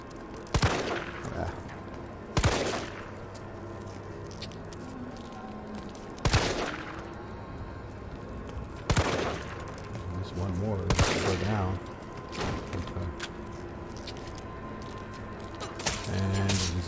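Gunfire in Resident Evil 3's Raccoon City demo, a series of loud, sharp single shots spaced a couple of seconds apart over game ambience, with a voice commentating between them.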